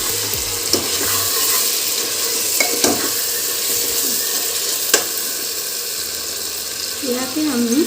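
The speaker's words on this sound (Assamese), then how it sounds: "চব্জিখিনি আকৌ এবাৰ আমি ভালদৰে লৰাই দিম।" Black chickpea curry sizzles loudly in a pan while a spoon stirs it, with occasional scrapes and clicks against the metal over a steady frying hiss.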